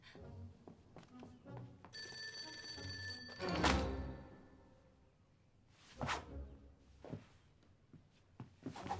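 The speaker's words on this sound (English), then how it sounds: "Oh, the phone." A telephone bell rings indoors for a couple of seconds, fairly faint amid soft room noises and movement, followed by a few thuds and rustles.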